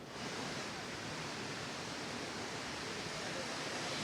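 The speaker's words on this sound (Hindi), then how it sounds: "मुंबई में कल रात से ही भारी बारिश हो रही है और अभी भी ये भारी बारिश शुरू है" Heavy rain pouring down in Mumbai after a night of downpour, a dense, even broadband hiss of falling water that stays steady and unbroken for the whole stretch.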